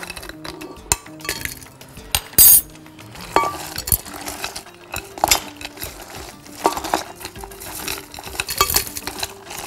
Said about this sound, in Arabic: اول حاجة عندنا تلج هنحطه في الخلاط